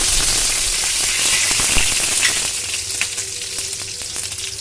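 Garlic cloves and whole spices such as bay leaf sizzle in hot white oil in a frying pan, a loud steady crackling hiss that eases slightly after a few seconds, with occasional small pops.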